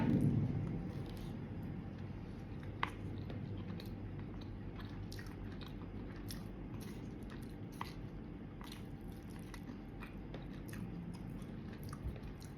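Close chewing of rice during a meal, with soft repeated wet bites and crunches in an uneven rhythm, steady and quiet throughout with no talking.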